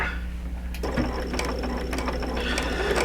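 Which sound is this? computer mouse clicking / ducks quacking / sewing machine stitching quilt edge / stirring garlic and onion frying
sewing machine stitching quilt edge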